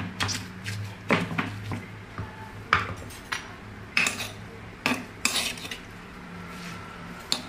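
Chopped eggplant for beberuk terong is stirred in a bowl, giving close, irregular clinks, scrapes and knocks of a utensil against the dish, with quiet pauses between them.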